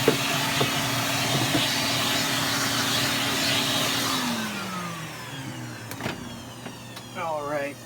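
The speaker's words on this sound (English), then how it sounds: "Actually, I'm going to vacuum inside of this unit." A vacuum cleaner drones steadily at close range while cleaning leftover surround bits from inside a subwoofer speaker driver unit of a Range Rover Harman/Kardon Logic 7 system, then winds down with a falling pitch, with a few clunks and a brief whistle at the end.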